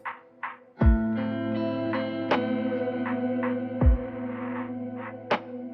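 Guitar-like tones pass through a delay set to high feedback and low level that feeds a reverb. A few soft plucks are followed by deep hits, then repeating echoes wash into a thick, lingering wash that sustains to the end.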